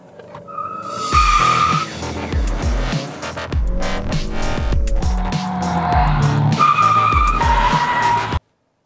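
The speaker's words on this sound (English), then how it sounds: "Now we're going to learn how to launch and heel-toe downshift." A Honda with a manual transmission launches hard, tires squealing and skidding loudly as the engine revs through repeated sharp gear changes, close and continuous with no talk, then cuts off abruptly.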